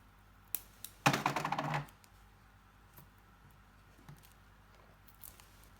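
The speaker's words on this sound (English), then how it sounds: "I'm just going to put some tape over the magnet." Tape is pulled from a roll in one short, crackling rip, with a few light taps and clicks as it is pressed down over a magnet. The sounds are close and quiet in an otherwise still room.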